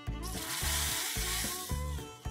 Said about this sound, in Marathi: आणि मग गॅस बंद करून कढीपत्ता घालूया